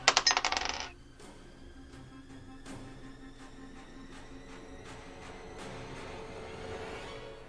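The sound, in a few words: die rolled on a table during tabletop game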